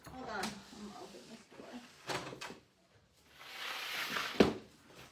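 A door is opened during a resin casting session in a wood-mold workshop. Several clunks and a brief sliding rasp come close by, with voices and room noise in the background.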